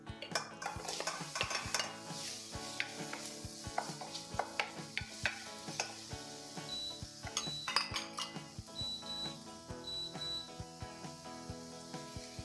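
Garlic and red onion frying in oil in a pan, with steady sizzling under repeated stirring and sharp clinks of a utensil against the pan and dishes, close and continuous.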